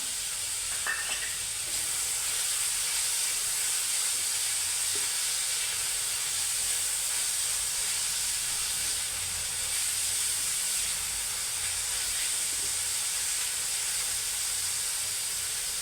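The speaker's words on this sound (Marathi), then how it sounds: "आता हे सगळं छान परतून त्याला थोडीशी वाफ घेऊन द्यायची आपल्याला" Capsicum and tomato cooking in a covered pan, giving a steady, loud hiss of steam and sizzle that runs unbroken throughout, heard up close with no talking.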